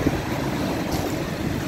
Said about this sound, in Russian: Волны прямо бушующие такие.